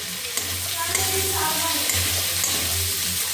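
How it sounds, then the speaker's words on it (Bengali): Prawns sizzle and crackle in a frying pan, a steady close hiss with occasional stirring clinks and a low hum underneath. "চিংড়ি মাছগুলো ভাজা হয়ে গেছে, এবারে আমি"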